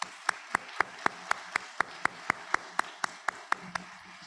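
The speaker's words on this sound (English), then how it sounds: "I'm going to ask the graduates to give some applause to your family out there." Graduates at an LPN graduation ceremony clap for their families, heard as a single steady, evenly spaced run of about fifteen crisp claps over a quiet background.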